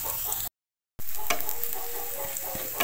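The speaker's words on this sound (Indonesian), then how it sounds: "Ini aku tumis dulu bawang merah, bawang putih." Shallots and garlic sauté in a pan with a loud, close, continuous sizzle and occasional scraping stirs, interrupted by a brief silent gap near the start; no talking.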